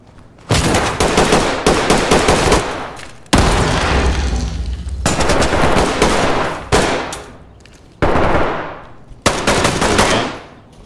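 Rapid gunfire in the tactical shooter game Ready or Not, loud bursts of automatic fire broken by short pauses, with several sustained volleys and booming reports up close and no talk over them.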